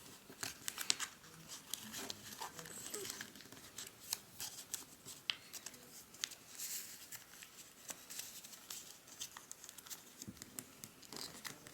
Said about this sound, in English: fold these flaps back out.